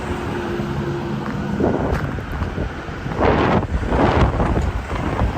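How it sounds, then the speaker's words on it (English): Strong wind buffets the microphone during a downtown walk in Regina, Saskatchewan in March, a continuous loud rumbling roar that swells into heavier gusts midway and near the end, with no speech. "I didn't expect the wind to be that bad. It's right in my face and it's blowing really hard right here."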